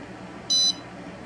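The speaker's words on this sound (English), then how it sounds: "So our alarm went, and the heater turned off, and now our text is red. So the beep will happen until the temp goes back to normal." A single short electronic beep from a DIY aquarium controller's temperature alarm, clear and steady over a quiet background hum.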